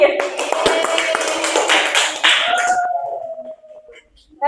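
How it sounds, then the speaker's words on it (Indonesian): A classroom group claps for a student, a dense burst of hand claps mixed with young voices that fades out after a couple of seconds. "Tepuk tangan untuk Ningsih"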